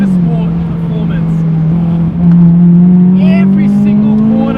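Honda Civic Type R FD2R with a 300 hp naturally aspirated engine on individual throttle bodies, driven fast through corners. A loud, sustained engine drone from inside the car dips and then rises in pitch as it pulls on, with faint voices beneath.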